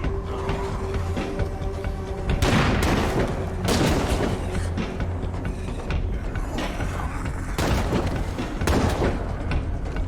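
Sniper gunfire in a video game, a few heavy booming shots spaced several seconds apart over a busy mechanical background of game effects.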